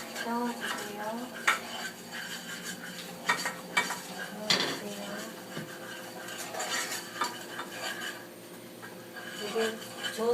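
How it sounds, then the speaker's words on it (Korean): A spoon stirs thick grain syrup (jocheong) bubbling in a pot for black sesame gangjeong, with scraping and clinking against the pot over a soft simmering hiss, while a person talks quietly throughout. "이렇게 바글바글 끓으면 저어주세요."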